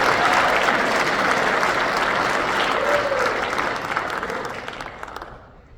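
Loud, sustained applause from a large crowd at an Army football awards ceremony honoring the 2025 first-classmen, dense clapping that holds steady before gradually thinning and fading out at the end.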